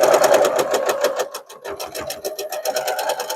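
A sewing machine stitching a quilt seam runs in a fast, steady mechanical chatter, the needle's rhythmic clatter briefly slowing midway before picking back up, close and clear with no voices.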